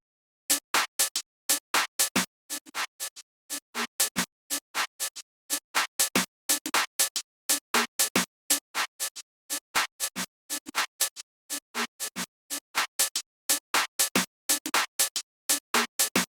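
Noise-gated drum hits in a rapid, evenly spaced series, each one cut off sharply into silence, with some groups snapping shut crisply and others opening with a softer, slower attack.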